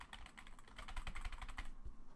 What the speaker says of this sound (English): So you can just keep typing as much as you want